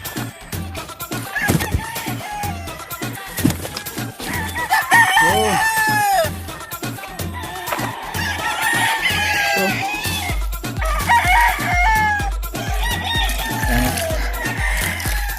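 Pet roosters and hens in a yard, loud repeated crowing and clucking from several birds close by, with a steady rhythmic thumping and some voices in the background.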